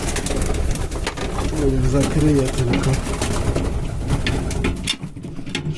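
Several pigeons coo softly in low, warbling rolls close by, under someone speaking and general background noise.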